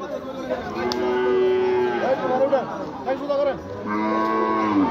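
Large cattle being unloaded at a Qurbani livestock market, with long, loud moos and lowing calls repeating close by and a faint crowd murmur underneath.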